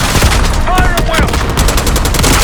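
Heavy gunfire in a Call of Duty Black Ops 6 battle near a palace gate: loud, close, rapid automatic bursts and overlapping shots crackle nonstop, with faint voices mixed in.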